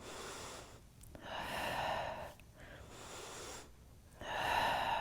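Deep, slow breaths during a Pilates abdominal workout, three long airy inhale-exhale cycles separated by short pauses, close and fairly quiet.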